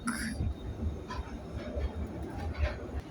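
A Glasgow Subway train rumbles along underground, a steady low roar with faint rail squeal near the start, heard from inside the carriage with voices murmuring beneath the noise.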